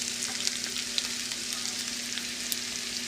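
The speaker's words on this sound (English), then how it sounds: "Now we're gonna go ahead and add our garlic." Garlic sizzles in a pan with onions that have been cooking for a couple of minutes, a steady close frying crackle with occasional stirring clicks and no talking.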